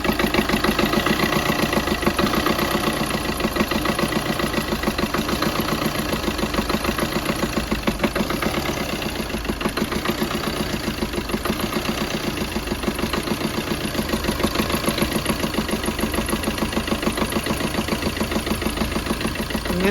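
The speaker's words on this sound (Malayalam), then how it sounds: "സ്റ്റാർട്ട് ചെയ്യുമ്പേ പഴയ ടെൻഷനറിൻ്റെ സൗണ്ട് ഞാൻ കാണിച്ചു തരാം കേട്ടോ." A car engine idles with a worn old belt tensioner, giving a steady, close mechanical drone with a fast, even ticking knock running through it, and no voices.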